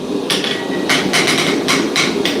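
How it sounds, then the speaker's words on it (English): A straight peen hammer strikes metal at a blacksmith's forge, a series of sharp ringing blows at a steady rhythm, loud and close, with no talk. "that was a Hansgrohe straight peen hammer"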